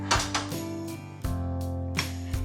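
Falafel and hummus are served onto a plate: a few sharp clinks and knocks of utensils against dishes ring out at close range over a steady musical background.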